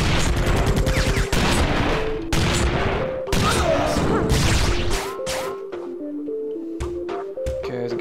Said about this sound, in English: Ultimate backstabbing here, shooting me in the back with a shotgun.